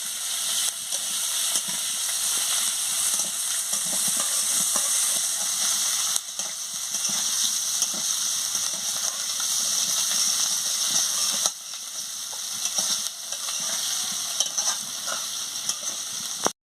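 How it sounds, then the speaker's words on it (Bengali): Potatoes frying with spices in a pan, giving a loud, continuous close hiss and sizzle with steady stirring scrapes, briefly dipping twice before carrying on. "দিয়ে ভালো করে মশলার সঙ্গে আলুগুলোকে কষিয়ে নিচ্ছি।"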